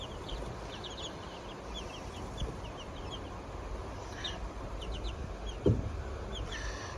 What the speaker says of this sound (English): I hope they're not all roosters